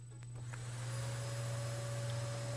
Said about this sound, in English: It's one of them quiet vacuum cleaners.